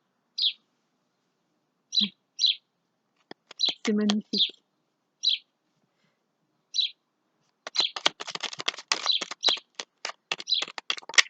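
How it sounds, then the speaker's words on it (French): Songbird calling from just overhead outdoors: short bright chirps repeated in bursts, then a denser run of rapid twittering, with someone speaking briefly between the calls. "Vous entendez l'oiseau juste au-dessus de moi?"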